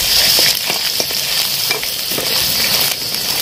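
Dried red chillies and crushed garlic fry in hot oil for a tempering, giving a steady loud sizzle with a few stirring scrapes and no voices.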